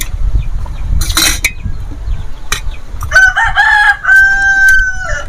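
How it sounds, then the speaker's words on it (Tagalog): Rooster crowing nearby in a rural yard, one drawn-out crow following a few short clucks and clattering knocks, loud and clear over light background noise. "Kita mo yung manok."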